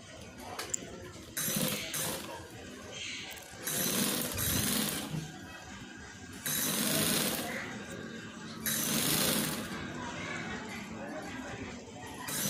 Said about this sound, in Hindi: इधर से इधर मैं सिलाई लगा लूँगी।